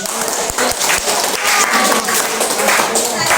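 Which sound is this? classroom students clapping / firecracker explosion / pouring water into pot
classroom students clapping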